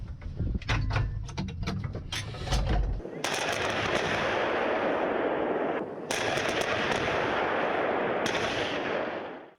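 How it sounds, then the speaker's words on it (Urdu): Gunfire and shelling in Kharkiv from Russian forces: a rapid cluster of sharp cracks and bangs opens the scene, then a dense, roaring wash of noise fills the rest with brief breaks. "اس شہر میں روسی فورسز کی جانب سے شدید گولہ باری کی جا رہی ہے."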